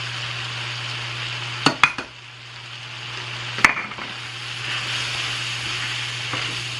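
Chopped vegetables and about a third cup of flour cooking together in a pan for a roux, a steady soft sizzle with a few sharp clacks of a utensil against the pan partway through.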